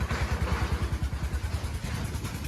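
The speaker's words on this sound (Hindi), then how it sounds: "ट्रैक्टर जा रहा है यार कितनी आवाज कर रहा है भाई ये बैकग्राउंड में, इसकी ट्रॉली सी।" Tractor pulling a trolley rumbles past, a low chugging engine pulse with rattling clatter, steady and moderately loud in the background, no voices.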